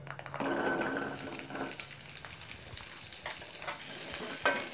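Peeled small onions, about a hundred grams, hit hot oil for a spicy country chicken curry, a burst of sizzling followed by steady frying and occasional scraping stirs, close and moderately quiet.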